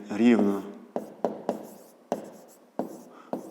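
A pen writes on paper while solving a fifth-grade geometry exercise, with short scratchy strokes tapping down in a steady rhythm after a brief spoken word at the start.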